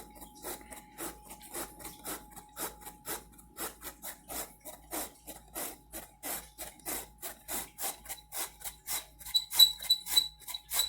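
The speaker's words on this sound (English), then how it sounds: "I can do 2 at a time with my sifter." Rhythmic scraping strokes from a hand sifter working fine flour for homemade saltine crackers, a steady beat of soft rasps at close range that grows a little louder toward the end, with no talking.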